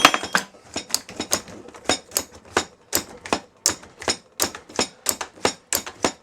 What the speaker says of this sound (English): dicing up the mushrooms is all I'm doing